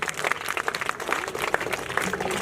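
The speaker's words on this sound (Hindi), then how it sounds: "एक बार मैं चाहता हूँ इनके लिए भी जोरदार तालियां आप बजा दें।" Steady, moderately loud clapping from a gathered audience at a community event, continuous across the short stretch with a thick texture of many hands.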